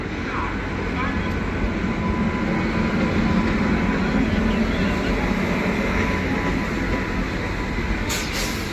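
Bandikui–Bareilly passenger train hauled by a WAP-7 electric locomotive at Agra Idgah, with a crowded coach. A loud, steady rolling rumble continues throughout, with voices in the background.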